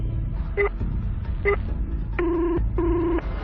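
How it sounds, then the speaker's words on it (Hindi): A telephone ringback tone repeats in short electronic bursts, two brief pulses followed by two longer ones, over a low rumbling background. "नमन ने जेब से तुरंत फोन निकाला और ध्रुव को फोन मिलाया"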